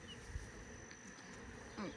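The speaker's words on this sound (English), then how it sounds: "So we do have plenty of bees, it looks like, in this box." Honey bees buzz steadily in a hive box, a faint, close, droning hum with brief louder passes from individual bees.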